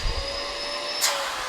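A Clean Obsessed CO888 canister vacuum cleaner runs with a steady high-pitched whine and airflow hiss, with a brief rise in the rush of air partway through.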